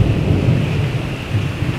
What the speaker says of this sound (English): we have crazy rain